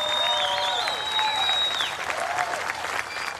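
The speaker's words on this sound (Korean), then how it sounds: "이 부분에서 가장 그 박수를 많이 그 받았는데" Sustained applause from a large crowd at a US Republican National Convention speech, loud and continuous, with whistles and cheers rising above the clapping.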